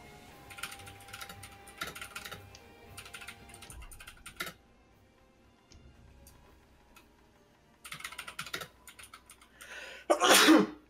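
Rapid clicking of a computer keyboard comes in bursts through a Sekiro gaming session, then a loud, close sneeze bursts out at the end.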